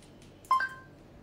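A mobile phone sounds for an incoming call with a single short electronic two-tone chirp, clear and fairly close against a quiet room. No one talks.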